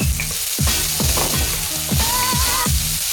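Garlic sizzles loudly in a hot pan for vegan pad thai, a steady crackling fry with repeated stirring scrapes and a brief tonal squeak partway through.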